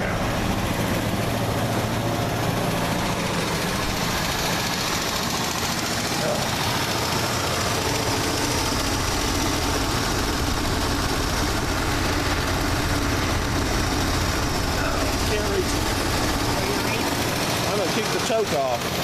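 An old car engine idles steadily after a cold start with the choke engaged, a loud, continuous low rumble close by throughout, with people talking over it.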